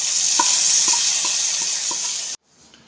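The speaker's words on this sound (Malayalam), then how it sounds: "എണ്ണ ചൂടായി വന്നിട്ടുണ്ട് കടുക് ഇട്ട് കൊടുക്കാം വറ്റൽമുളക് ഇട്ട് കൊടുക്കാം" Mustard seeds, dried red chillies and curry leaves tempering in hot coconut oil, a loud close sizzle with sparse popping seeds, then cutting off abruptly to a faint hiss.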